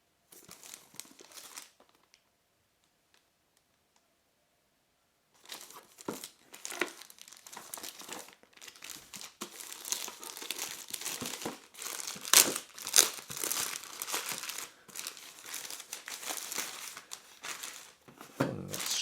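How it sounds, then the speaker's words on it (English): A plastic-wrapped ieGeek barcode scanner package is opened with brief crinkling at first, a few seconds of near silence, then sustained close-up crackling, crumpling and tearing of plastic wrap. "So let's go ahead and open up the package."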